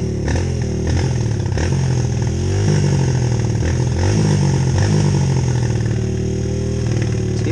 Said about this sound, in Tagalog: riding on a KLX 140G